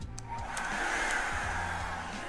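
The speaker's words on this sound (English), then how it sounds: "I'm actually gonna go ahead and turn on the hairdryer." A hair dryer whirs steadily at close range, a constant airy drone with a few faint clicks and knocks around it.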